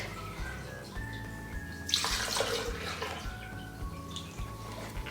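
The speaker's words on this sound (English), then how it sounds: "First, you have to put the" Milk pours into a blender jar for a cookies and cream milkshake, a close, steady liquid trickle and splash that briefly swells in the middle.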